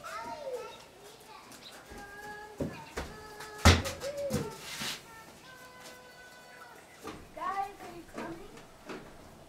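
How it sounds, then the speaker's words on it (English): Children play and call out in the background of a home on a Saturday, with light thumps and scattered high voices at a distance, under a nearby adult speaking. "so you might hear them running back and forth here in the background."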